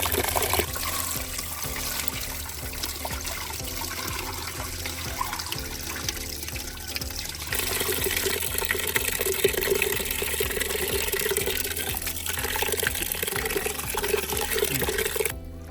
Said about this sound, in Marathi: गहू चांगले धुवून घ्यायचे आणि नंतर मग वाटायचं.